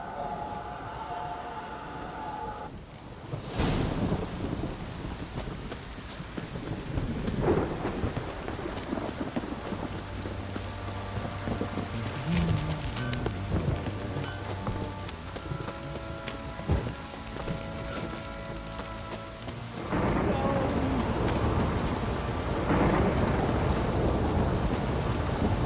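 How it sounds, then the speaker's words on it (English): Heavy rain pours steadily with rolling thunder in a stormy scene from the video game The Witcher 3: Wild Hunt, a dense continuous downpour with low rumbles and a louder burst near the end. "This downpour's a bastard, it is."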